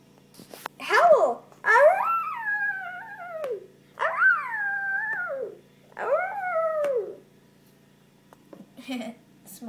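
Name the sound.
small dogs howling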